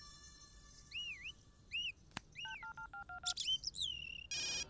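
A mobile phone rings with an incoming call, its electronic ringtone playing a sequence of warbling chirps and rapid beeping tones, close and clear over faint background hiss, with no one talking.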